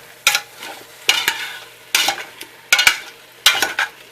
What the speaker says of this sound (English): Alright, just a little bit of chili powder, and then stir them, mix them up together,